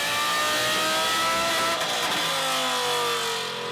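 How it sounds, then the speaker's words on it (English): Lamborghini Gallardo with a Fluid MotorUnion exhaust system revving hard, a loud sustained engine roar with a rising and falling pitch, close and continuous with no talk. "The Fluid MotorUnion Gallardo exhaust system has earned quite a reputation over the years"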